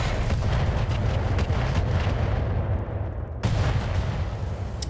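Mech weapons in a video game fire continuously, a dense rumbling barrage of booming shots and explosions with a heavy low-end roar and a sharp blast near the end.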